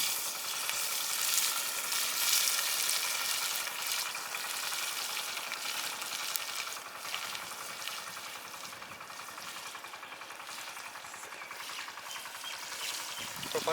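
Onions frying in groundnut oil for chicken biryani, a steady close sizzle and crackle that holds at an even level throughout, easing slightly toward the end.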